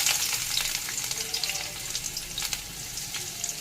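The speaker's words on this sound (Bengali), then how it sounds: "ফোড়নের জন্য দিয়ে দিলাম 5 ফোড়ন, দিয়ে দিচ্ছি পেঁয়াজ" Onions and panch phoron fry in hot oil in a wok for aloo posto, a steady close sizzle with crackly pops throughout.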